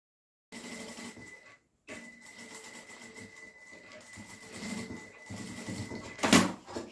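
A sewing machine stitching a seam around the edge of fabric, starting and stopping in short runs with a steady mechanical whir, then a brief louder burst near the end.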